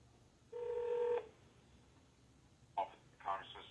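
Telephone call tones: a steady half-second dial tone, a pause, then short bursts of ringing or dialing signals before the line connects, heard fairly quietly over faint background hiss.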